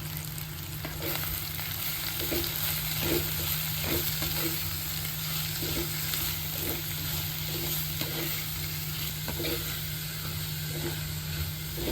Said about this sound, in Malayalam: അതിലേക്ക് ചെറുതായി അരിഞ്ഞു വെച്ചിട്ടുള്ള സവോള ഇട്ട് ലേശം ഉപ്പും കറിവേപ്പിലയും ചേർത്ത് നന്നായി ഇളക്കി കൊടുക്കണം